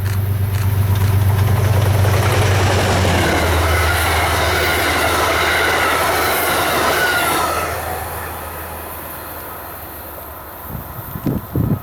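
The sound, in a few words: Amtrak passenger train passing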